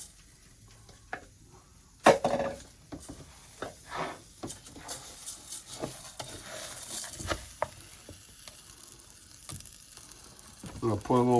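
Arborio rice cooks in a pan with a soft, uneven sizzle and scattered stirring scrapes and clicks, fairly quiet, with a short burst of talk near the end.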